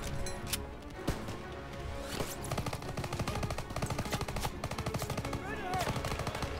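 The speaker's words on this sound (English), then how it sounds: "He's just spraying bullets all over here, and I don't even see anybody." Rapid machine gun fire in the Call of Duty WWII game, a continuous dense stream of loud close bursts with some scattered single shots mixed in.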